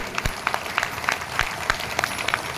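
Sparse, evenly spaced claps in a steady rhythm, like a small group applauding slowly in a room at a religious gathering in India.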